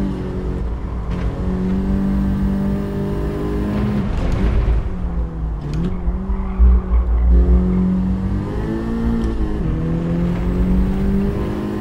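Racing car engine in Gran Turismo 7 on the Dragon Trail circuit, droning steadily with pitch shifts as it rattles over kerbs, loud and close, with a brief tyre squeal in the middle.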